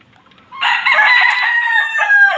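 A backyard rooster lets out a single loud, close crow that starts after a brief quiet moment and holds strong to the end, with no talking.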